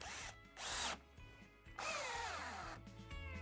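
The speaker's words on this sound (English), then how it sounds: "let's try out the Craftsman and see how she does." A budget Craftsman cordless drill spins up in short, loud bursts, its whine rising and falling through several starts and stops with no voices over it.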